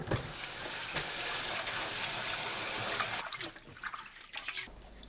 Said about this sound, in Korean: 5분 후 깨끗한 물에 헹궈주세요.